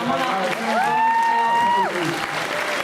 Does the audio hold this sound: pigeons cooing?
no